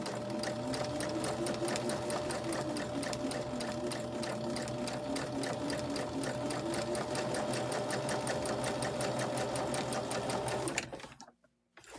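Sewing machine stitching in the ditch along a seam on a fabric Valentine's mug rug, a steady, close, fast-running stitch rhythm that holds for about eleven seconds before stopping abruptly.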